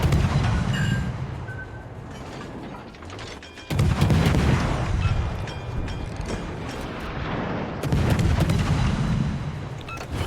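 A World of Warships naval battle: heavy booming gunfire from salvos, with loud blasts near 0, 3.7 and 8 seconds over a continuous low rumble of engine and sea noise.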